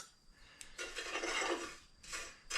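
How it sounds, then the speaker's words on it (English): Dried ancho chillies and cumin seed scrape and rustle as they are shifted around a dry pan, in a few soft rasping strokes separated by short pauses. "we just want to move them around in the pan"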